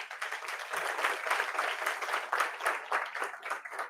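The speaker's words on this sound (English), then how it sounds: "Can we give a round of applause to her?" Audience at a youth summit applauds continuously, dense clapping held at steady volume throughout, with no talking over it.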